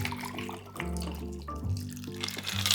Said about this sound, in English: fine strain our cocktail